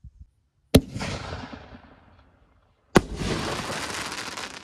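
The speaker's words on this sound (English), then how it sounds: "We are doing the red strobe willow." Two red Pro Shells strobe willow canister shells from Pro Fireworks go off outdoors, each a sharp, loud bang followed by a long crackling, fizzing strobe tail that fades out.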